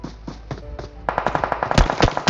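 Gunfire in the mobile battle-royale game PUBG Mobile: after a quieter stretch, a rapid burst of automatic shots cracks out in a fast, steady rhythm, loud and close, with no talk over it.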